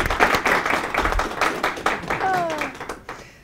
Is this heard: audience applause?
yes